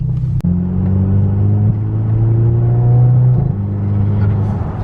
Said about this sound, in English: I can just hear your like intake going crazy right now.